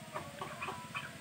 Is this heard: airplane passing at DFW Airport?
no